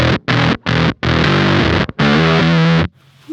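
A Cat Box Customs Bean Machine distortion pedal with its texture toggle in the down position gives a gritty, buzzy guitar riff: several short stabs, then two longer sustained notes, loud and close before cutting to near silence.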